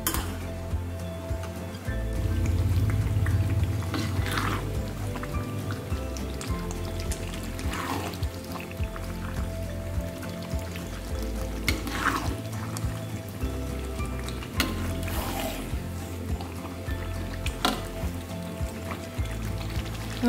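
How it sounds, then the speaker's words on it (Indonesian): Pork rendang simmers in coconut milk in a pan, a continuous bubbling hiss broken by occasional clinks and scrapes of a utensil stirring, close and moderately loud. "Kita masak lagi sampai santannya menyusut dan nanti warnanya semakin coklat."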